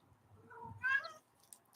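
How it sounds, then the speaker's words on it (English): A house cat gives a single short meow close by, rising then fading, in a quiet room. "Kitty."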